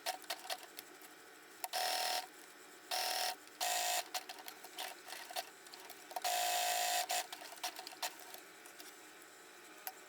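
A sewing machine stitches Velcro onto webbing straps for a custom sword storage box, a few short, buzzing bursts of stitching separated by quiet ticking pauses, with one longer run near the end.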